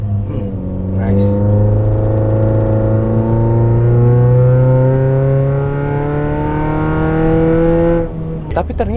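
Remapped Mitsubishi Outlander accelerating hard, its engine note rising steadily in pitch for several seconds through a gear, loud and close, with a brief voice at the start.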